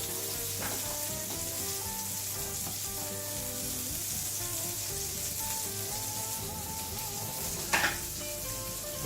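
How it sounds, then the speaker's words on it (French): A vegetarian burger patty fries in oil in a very hot pan, giving a steady close sizzle and crackle with a brief clatter near the end. "Je baisse un peu mon feu et je vais laisser cuire quelques minutes, histoire que la croûte se forme correctement."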